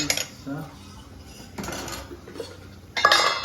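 A metal dish and utensils clink and clatter in a home kitchen while Kathiyawadi dhokla is being steamed: a few short, sharp clatters near the start and middle, a louder cluster at the end, with quiet gaps between.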